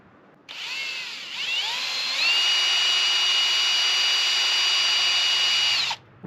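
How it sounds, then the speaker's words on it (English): A power drill spins a mini outboard motor in one continuous whirring run of about five seconds. It ramps up in pitch, then holds a steady high whine close by before cutting off abruptly, with no voices. "Make sure you have the drill turning the right direction"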